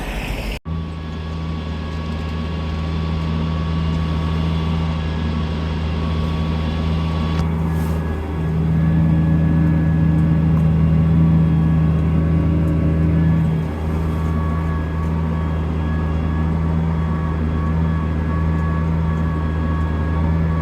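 A farm vehicle used for seeding drives back toward the paddock, a loud steady engine drone heard from inside the cab with a constant low hum that briefly swells in pitch partway through, with no talking.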